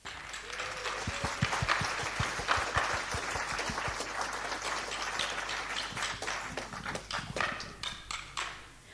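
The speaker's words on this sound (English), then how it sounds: "Give a warm round of applause to our third guest" A studio audience gives a warm round of applause welcoming an interview guest. The clapping is dense and sustained, mixed with sharper individual claps, moderately distant and fairly quiet.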